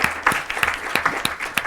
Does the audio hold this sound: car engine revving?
no